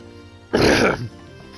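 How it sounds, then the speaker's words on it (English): A man clears his throat once, a short, close, rough burst that stands out sharply against the quiet room. "so I'm not like clearing my throat every 10 seconds."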